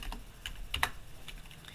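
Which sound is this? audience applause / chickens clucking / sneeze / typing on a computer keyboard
typing on a computer keyboard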